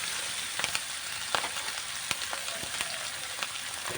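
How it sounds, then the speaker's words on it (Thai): Curry paste stir-fried in a pan for a Thai morning glory and pork curry, a soft sizzle broken by repeated sharp scraping taps of a spatula at an irregular pace, no voices. "ผัดพริกแกงให้หอมก่อน"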